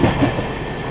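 Rajdhani express train running on the rails in Bihar, heard from inside a first AC coach as a steady low rumble with faint clickety-clack.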